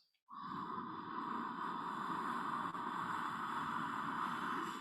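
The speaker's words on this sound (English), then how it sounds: "breathing in with that slight quality, that resonance in the back of the throat" Steady, continuous breath drawn through a narrowed throat, a meditation breath with a soft resonant hiss that holds level and close for several seconds after a brief silence.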